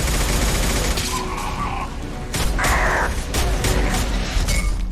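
Sustained suppressing fire from a firefight in the video game Mass Effect 2, with dense bursts of weapon fire, impacts and crackling shots layered over a loud continuous battle din.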